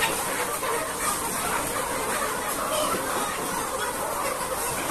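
Many chickens cluck steadily in a crowded poultry farm shed, a dense, continuous flock noise with no single bird standing out and no pauses.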